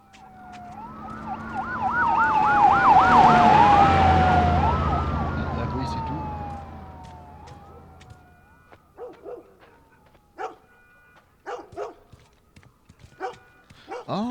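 A police siren wails in The Last of Us, rising loud with sweeping up-and-down tones before fading, while a dog barks in short bursts afterward.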